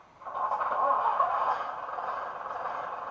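Sound-fitted model of a Derby Lightweight diesel railcar running its motor effect, a steady bus-like engine drone that rises in and holds at moderate level.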